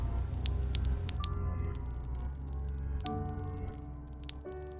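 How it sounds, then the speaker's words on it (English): A horror sound effect of heavy dripping onto a floor: irregular wet, squishy drops fall one after another over a low, eerie droning tone. "I heard the sounds of heavy dripping"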